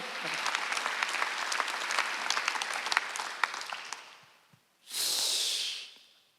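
A church congregation at a Sunday worship service applauds in a dense, fairly quiet patter that fades out after about four seconds, followed by a brief breathy hiss.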